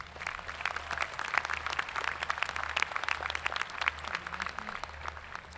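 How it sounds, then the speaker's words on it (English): An audience at a Clear Springs High School graduation ceremony applauds, many hands clapping in a dense, steady patter that fills the hall at moderate volume, with no voices over it. "Let's give them a round of applause."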